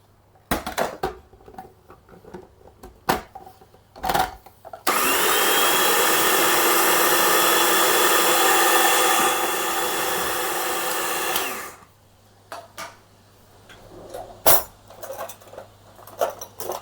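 An electric mixer blending egg, cream and pepper, whirring loudly for several seconds after clinks of utensils against a bowl, then cutting off to more scattered clinking.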